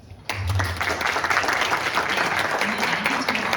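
Warm, sustained applause from a lecture audience at a university career talk, a dense steady patter of many hands clapping that starts abruptly and carries on evenly throughout.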